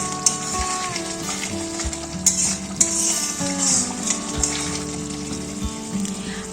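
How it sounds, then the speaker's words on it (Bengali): Aloo dum potato curry being stirred in a pot, with a steady simmering sizzle and scattered scrapes and clinks of a utensil against the metal, close and continuous with no voices. "এবার একটু নেড়ে ছেড়ে নিচ্ছি।"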